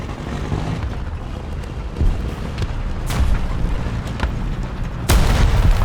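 Su-85A tank gun from War Thunder firing as booming blasts, with a sharp loud report near the end over continuous rumbling battle noise; no talk.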